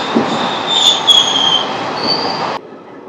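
The Rayagada–Guntur Express rolls loudly along the tracks at speed with high metallic wheel squeals over a steady rumble, then the noise drops off abruptly near the end.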